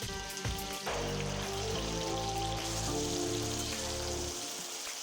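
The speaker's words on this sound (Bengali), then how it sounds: "এবার তেলে চিকেনটা দিয়ে দিচ্ছি এক এক করে" Chicken pieces frying in hot oil with whole spices, a dense, steady crackle and sizzle close by, sharpening as each piece goes into the pan, with no talk.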